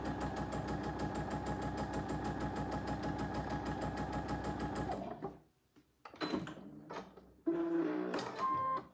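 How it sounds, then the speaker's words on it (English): A home sewing machine stitches fabric at a quarter-inch seam in a steady, fast mechanical whir for about five seconds, then stops, leaving a few quieter clicks and short bursts of handling noise. "and then I just start sewing"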